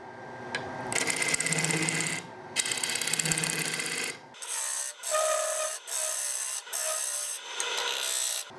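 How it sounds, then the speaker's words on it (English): A wood lathe spins an octagon winged bowl blank of very dry wood while a gouge free-turns it, giving a steady scraping, rasping hiss broken into repeated cuts with brief pauses, loud and close. "I'm just going to free turn this as we go"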